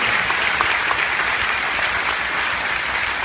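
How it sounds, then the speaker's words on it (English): A crowd at a mothers' vigil gives a sustained round of applause, with thick, even clapping that fills the whole stretch at a fairly loud level. "give Essence a huge round of applause for everything that they're doing"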